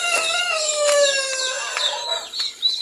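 Plymouth Rock hen on a small farm clucking and calling continuously at close range among other chickens, with a rooster-like crowing tone threading through, no talk.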